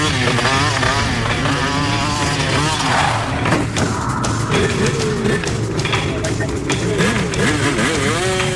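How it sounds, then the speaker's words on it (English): Motorbike and dirt bike engines rev and whine as they pass at night, one with no headlights, with steady road rumble throughout. "A couple of motorbikes here, one here with no headlights on or anything."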